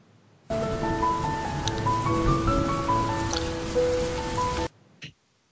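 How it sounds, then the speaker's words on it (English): Steady rain falls in a video game, a dense even hiss that stops abruptly near the end, with faint tonal music lines running beneath it. "why is it raining all of a sudden?"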